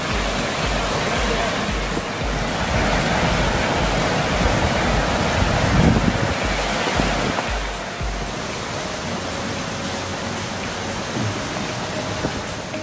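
Steady broadband rushing of a waterfall (curug) on the Kawah Ratu trail via Pasir Reungit, continuous and fairly loud, with some footsteps and handling noise mixed in and no talking.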